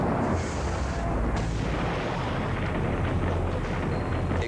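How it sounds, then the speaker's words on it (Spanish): A deliberately triggered explosion destroys a Boeing airliner, heard in television footage as a loud, sustained roaring blast that rumbles dense and continuous throughout, with no voices over it. "Explosiones provocadas, como la de este Boeing"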